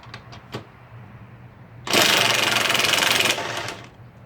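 An impact wrench loosening the blade spindle bolts on a Bobcat mower deck, giving one loud sustained rattling burst of about a second and a half after a few faint clicks, close to the microphone.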